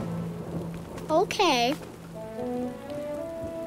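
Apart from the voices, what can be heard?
rain and thunder in a cartoon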